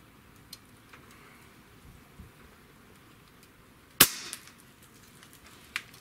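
The trigger of a Gauntlet 30 PCP air rifle is pulled against a pull-weight gauge, giving a faint tick early on, then one sharp, close snap and a smaller click near the end against a quiet room.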